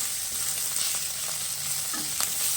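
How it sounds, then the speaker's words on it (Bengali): Onion, ginger, garlic and dried and green chillies frying in a pan for dhaba-style egg tarka, a steady close sizzle with a few scraping stirs. "পেঁয়াজ আদা রসুন শুকনো লঙ্কা কাঁচা লঙ্কা সব এতে অ্যাড করে দিই দিয়ে নাড়ি"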